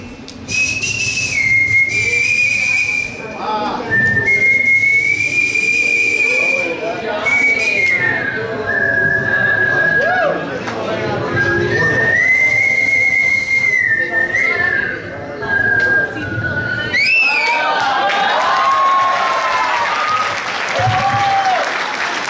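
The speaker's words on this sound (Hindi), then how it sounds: "एक सीटी बजा देता हूँ।" A whistle blown at an evening stage show gives a long, shrill tone that wavers and slides in pitch for most of the stretch, over steady audience applause and cheering, then breaks into quicker chirps near the end.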